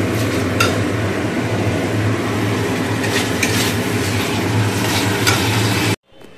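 Cooked chickpeas being stirred into a spiced masala in a pan for ghugni, with steady scraping and stirring over a constant low frying hiss, loud and close, ending abruptly near the close.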